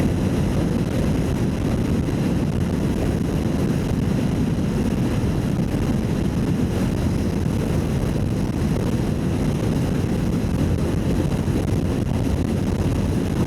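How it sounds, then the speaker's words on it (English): Strong wind buffets a camera microphone outdoors in New Zealand's central North Island, a loud, constant low rumble and roar that holds steady throughout, with no voice. "It's really windy, sorry about that."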